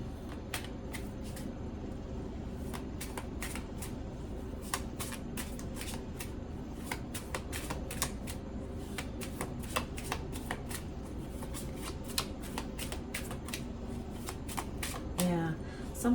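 A tarot deck is shuffled by hand, giving fast crisp riffling flutters and card snaps at close range, repeating steadily throughout at a fairly low level.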